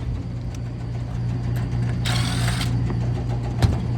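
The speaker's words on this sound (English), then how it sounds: "I hear our blower doing something in here." An old Carrier HVAC blower runs with a bowed, wobbling plate, giving a continuous low droning hum with a steady rumble and a brief airy surge midway, heard alone without talk.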